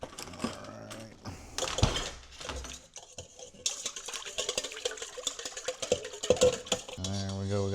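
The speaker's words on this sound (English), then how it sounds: "we got that all whisked together" A whisk clatters against a bowl while mixing batter made with almond milk, quick irregular scraping and tapping strokes close up, with brief bits of other kitchen noise.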